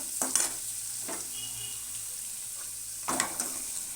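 Paneer frying in a pan with turmeric, chili powder and salt, sizzling quietly throughout while a spoon stirs and scrapes in short bursts near the start and again toward the end.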